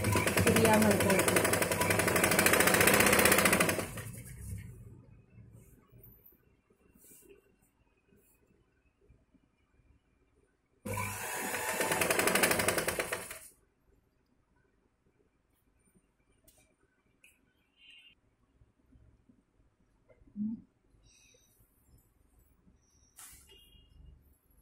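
Two loud, close bursts of a sewing machine join blouse pieces, each rapid run lasting a few seconds, separated by near-silence with small handling sounds.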